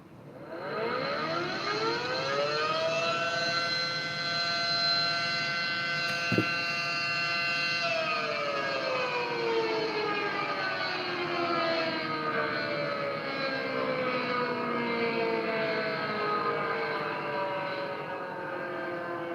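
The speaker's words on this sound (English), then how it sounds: "Okay, try and guess this siren." A 5T outdoor warning siren in Walkerton, Indiana winds up to a steady wail, holds, then slowly glides downward, loud and sustained with no talking.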